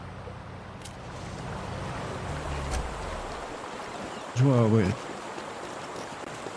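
Rushing water at the top of a waterfall in the fishing game Call of the Wild: The Angler, a steady broadband wash running throughout, with a brief speaking voice over it near the end.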